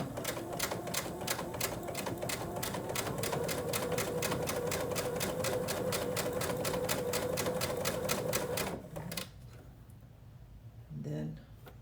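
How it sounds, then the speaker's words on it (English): A sewing machine stitches quilt fabric pieces, running with a steady rapid mechanical chatter for about nine seconds before it stops, followed by a brief quiet whir. "Normally I would just keep sewing a whole bunch of these"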